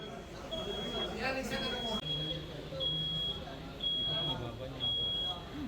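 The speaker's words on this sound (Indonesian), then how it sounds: "Tadi kan sempat terdengar suara Alarm." Smoke and heat detector alarm sounding at a fire scene: a steady high electronic tone in repeated long beeps, about one a second, mid-distance, beneath continuous talk and crowd noise.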